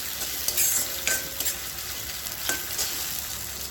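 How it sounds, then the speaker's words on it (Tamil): Tomatoes sautéing in a kadai for egg masala curry, a steady close sizzle with scraping stir strokes of a spoon against the pan, heard alone without talk. "தக்காளி நல்லா மேஷ் ஆகிற அளவுக்கு வதங்கணும்."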